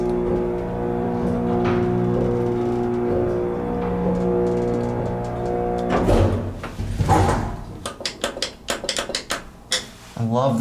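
A historic 1920 Warner traction elevator runs with a steady low mechanical hum and layered tonal drone for about six seconds, then gives way to clunks, clicks and a few metallic knocks as the car stops, with a voice briefly present.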